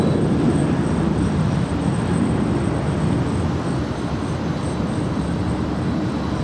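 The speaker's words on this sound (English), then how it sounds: "This is Alaska Airlines 342 departing to Loretto. It's a 737-900." An Alaska Airlines Boeing 737-900 departs Los Angeles International Airport, its jet engines producing a loud, steady broadband roar that stays constant for several seconds with no voices.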